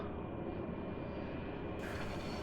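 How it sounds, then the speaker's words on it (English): A video game aircraft engine held at high idle, a steady, dense droning roar that brightens slightly near the end, continuous and fairly close with no voices. "Let's take our engine to high idle."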